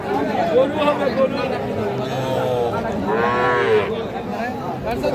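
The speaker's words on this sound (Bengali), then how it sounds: "এই যে আমরা এই পাশে সার বাছুর দেখতেছি।" Calves at a cattle market moo loudly at close range, with one drawn-out low call standing out amid a busy background of people chattering.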